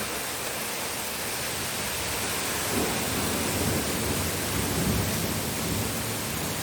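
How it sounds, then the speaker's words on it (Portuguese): A heavy rainstorm pours down outdoors as a dense, even hiss of rain, steady and loud throughout, with a faint low rumble swelling briefly partway through and no voices. "começou a chuva, olha o temporal que está aqui fora"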